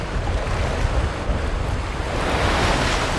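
Strong northeast monsoon wind and waves at Longluan Lake on Taiwan's Hengchun Peninsula in Kenting National Park: a loud, steady roar of gusting wind buffeting the microphone over crashing surf, unbroken and close.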